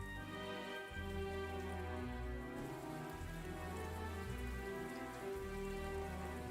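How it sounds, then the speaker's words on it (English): Quiet, steady rain patter runs continuously over a soft sustained tonal background, an even wash with no talking. "I'm genuinely enjoying the rain sounds"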